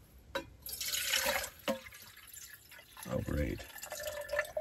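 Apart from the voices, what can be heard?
water dripping from a partly frozen water bottle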